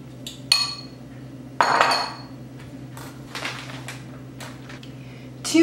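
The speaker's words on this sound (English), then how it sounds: "Just mix it all together." Utensil mixing potatoes and shallot in a bowl, heard as a few sharp clinks and scrapes against the dish with quiet gaps between, close by and with no talking.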